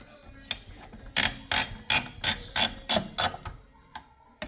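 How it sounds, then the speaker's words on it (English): Unscrewing and lifting off a CPU cooler in a Micro ATX Ryzen gaming PC: a run of about nine sharp ratcheting clicks from a close-up screwdriver, evenly spaced, with no talk. "let's remove this CPU"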